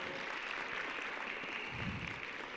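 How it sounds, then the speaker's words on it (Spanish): A church congregation applauds in a steady, even wash of clapping that goes on throughout without letting up. "Vamos a dar un fuerte aplauso."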